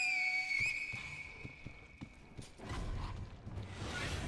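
A clear, high sustained whistle in the Sekiro video game rings out alone for a couple of seconds, followed by creaking, clattering mechanical sounds and a swelling whoosh.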